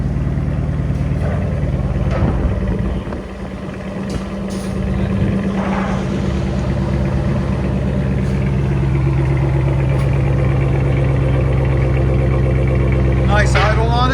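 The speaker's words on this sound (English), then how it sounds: "Nice idle on it. There's the idle on it." A 2015 Jeep Grand Cherokee Summit with a 5.7L HEMI V8, X-pipe and straight pipes idles with a steady, loud, deep rumble, holding an even throb without revving.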